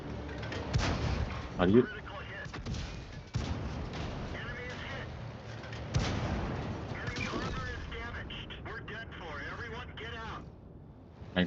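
Tank cannon fire in a World of Tanks battle: several loud, booming shots at irregular intervals amid battle noise, with someone talking over the game sounds.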